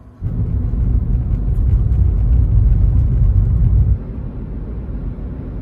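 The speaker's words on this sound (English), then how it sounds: "we're on cruise control at 65" A Rivian R1T pickup cruises at 65 on cruise control along Interstate 26, a loud, steady low road rumble and wind roar inside the cabin that eases slightly after a few seconds.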